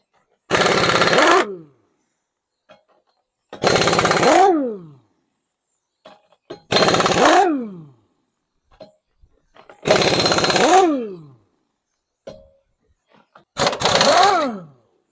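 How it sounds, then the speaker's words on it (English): A power tool fires in five loud bursts on a Toyota Corolla suspension nut, each about a second long and hammering rapidly, with the motor winding down after each burst and quiet gaps between. "let's use our power tools"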